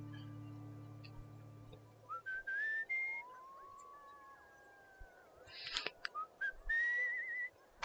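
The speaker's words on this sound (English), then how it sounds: "I still don't know what the whistling does." Melodic whistled phrases from a character in the exploration game Where Water Tastes Like Wine, rising and gliding tones repeated in short bursts over a soft ambient backdrop, with a low hum fading early on.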